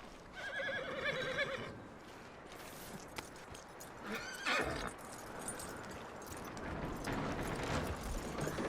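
A horse in Red Dead Redemption 2 whinnies loudly and close, then snorts, with hooves clip-clopping and soft ambient noise around it.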